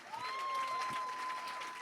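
Applause from a church book-review panel audience welcoming a speaker, fairly soft and steady, with a sustained tone running underneath.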